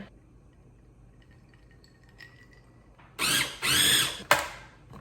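A food processor or blender works pie dough with butter for a quiche crust while water is added, giving a few loud whirring pulses after a quiet start.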